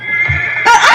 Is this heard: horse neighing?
yes